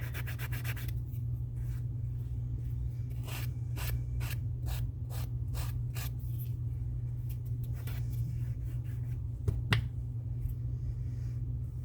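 Hand sanding on a thrifted item, with bursts of short scratchy strokes in uneven rhythm close up, separated by pauses and a couple of sharper taps over a constant low hum.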